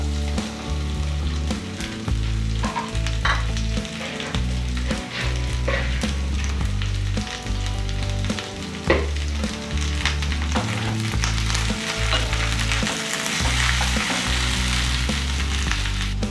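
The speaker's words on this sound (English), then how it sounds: "As the oil heats up, we'll add our bhindi pieces to it." Okra pieces fry in hot oil in a wok for bhindi do pyaza, a loud, steady sizzle with crackling spits throughout and occasional stirring.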